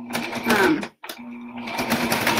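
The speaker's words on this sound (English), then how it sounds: "all I'm going to do is use a 1/4 inch seam and go around all 4 corners, all 4 edges" A sewing machine stitching a quarter-inch seam around the edges of a pillow cover, a steady close whirring hum that briefly stops and then runs again.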